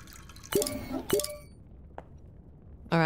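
Liquid is poured into a container in a steampunk chocolate factory simulation game, heard as two short splashy pours, a faint drip and a final sharper splash, each brief and fairly close.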